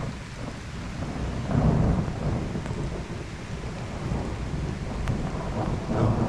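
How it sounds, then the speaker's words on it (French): Heavy rain pours steadily during a violent thunderstorm in Liège, Belgium, while deep thunder rumbles and swells, with a louder roll near the start and another toward the end. "Deux énormes impacts de foudre."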